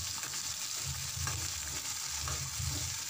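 Green chillies and garlic cloves frying in oil, giving a steady, close sizzle with soft stirring scrapes and no voices.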